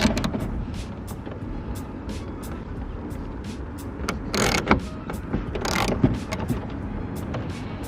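A ratchet with a size 8 socket loosens the tail light bolts on a 2016-2018 Chevrolet Camaro. Light metallic clicking and mechanical rattles repeat at close range with no talking.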